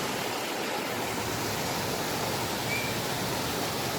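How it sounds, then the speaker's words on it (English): A roadside waterfall in Kings Canyon roars with a constant, dense rush of falling water, steady and fairly loud with no other sounds standing out. "This is another waterfall that we found along the road."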